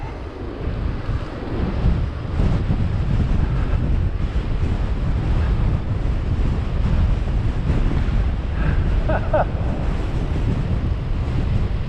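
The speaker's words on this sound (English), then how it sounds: "Whoa, that is windy." Strong wind roars and buffets steadily throughout on a bike ride around Bournemouth, a dense low rumble with gusty surges and no voices.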